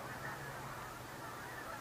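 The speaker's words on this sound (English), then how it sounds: "That's definitely the most birds I've ever seen fly overhead at one time." A huge flock of geese honking as they fly overhead heading south, a faint, continuous chorus of distant calls with no talk.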